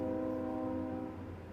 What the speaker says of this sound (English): You can hear that train.